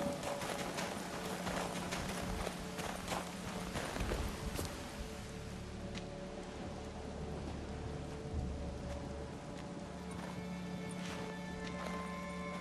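Steady hoof clip-clops of a horse in The Witcher 3: Wild Hunt over a busy outdoor game soundscape, with a dense wash of ambient noise and occasional light splashes.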